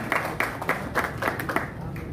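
An audience at a Nashik election gathering claps in a short burst of scattered applause, fairly close, with a speaker's voice running over the top.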